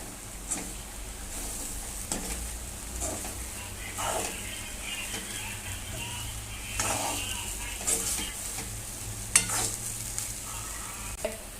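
Plenty of coriander stirred into a frying puffed-rice Sushila mixture in a pan, with a continuous low sizzle and repeated scraping strokes of a spoon, a steady hum running underneath.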